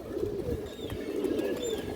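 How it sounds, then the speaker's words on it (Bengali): A big silver male pigeon with a purple neck gives soft, low cooing calls, close and clear, repeating in a short rolling rhythm. "এটা বেগুনি গলা সিলভার নর কবুতর"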